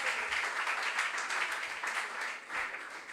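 Audience applause at a junior science and maths quiz, with dense, steady clapping from a crowd across the whole moment, fairly distant and even, dipping slightly near the end.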